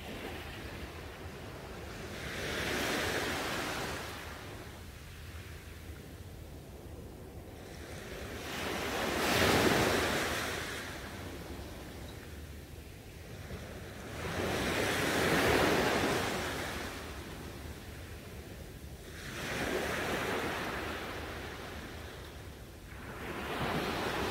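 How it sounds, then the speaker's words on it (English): Ocean waves roll in and wash out in slow surges every few seconds, a soft steady roar with wind noise between the swells. "relaxing with the sound of the waves."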